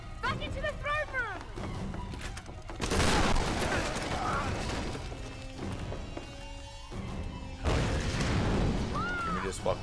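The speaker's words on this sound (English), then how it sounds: "This fucking shotgun." Shotgun blasts in the Tomb Raider 2013 video game: two loud, broad bursts several seconds apart rise over dense in-game combat noise, with voices talking throughout.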